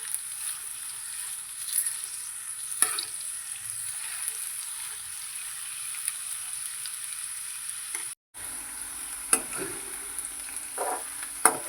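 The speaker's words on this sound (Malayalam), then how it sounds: "നല്ല ഗോൾഡൻ നിറം ആകുന്നത് വരെ ഒന്ന് ഫ്രൈ ചെയ്തെടുക്കണം." Sliced onions for black chickpea curry fry in oil until golden, a thin steady sizzle with a high whine, broken by a few soft clinks and spatula scrapes and one brief dropout.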